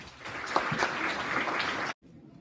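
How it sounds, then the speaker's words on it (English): A school audience at a Grade 7 prize-giving ceremony claps for award-winning learners, a moderately loud, even patter of hands that stops abruptly, leaving near silence. "Please give them a warm round of applause."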